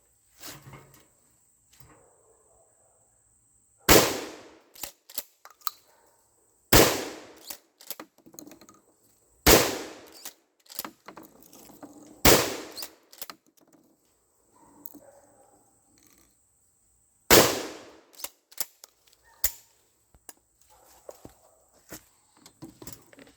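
A shotgun fires 3-inch shells outdoors, five loud sharp blasts spaced a few seconds apart with quiet gaps and small rustling sounds between them.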